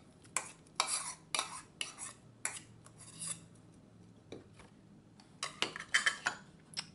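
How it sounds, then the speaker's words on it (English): Milk barfi mixture with Nestle cream and ginger being stirred in a bowl, giving irregular scraping and clinking strokes of a utensil, some sharp, with short pauses between bursts. "you're going to mix this until everything has incorporated throughout the milk"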